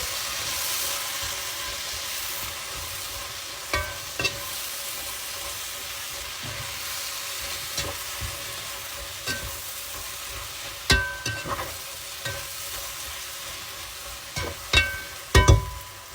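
Vegetables, including long beans, are stirred and turned in a pan for a curry. A faint low sizzle runs throughout, broken by scattered scrapes and utensil knocks that grow more frequent near the end.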